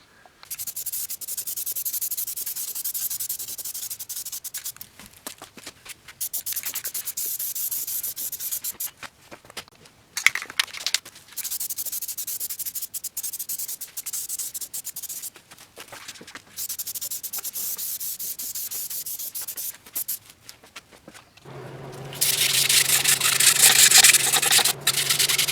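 Hand sanding scratches back and forth on a car's front crash bar during a rust rebuild of a low-mileage Honda CR-V, in rhythmic bursts with short pauses, ending in a louder, steadier stretch.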